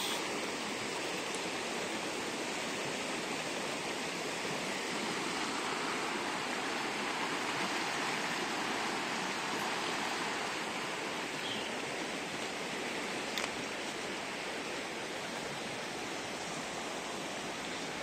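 Steady broadband rush of flowing water at the bank of the Pandeiros river, constant and full, without a break from start to finish.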